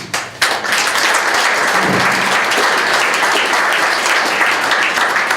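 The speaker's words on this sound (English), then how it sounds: "you all need to give yourself a round of applause" Loud, dense applause from a community forum audience on opiates, sustained and even throughout after a brief softer opening.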